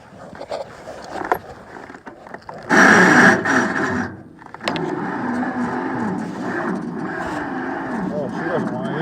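A John Deere 70 tractor is cold-started: a short loud burst as it catches, a brief lull, then the engine settles into a steady, throbbing run up close, with people talking over it.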